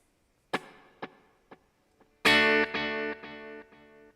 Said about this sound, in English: the reverb is being fed into the delay